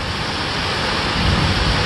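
Steady, dense hurricane rain hisses continuously, a broad wash of noise with no breaks or voices.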